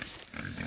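Pigs on a farm, out of their pen and playing around, give a short burst of faint grunts and snorts without any talking.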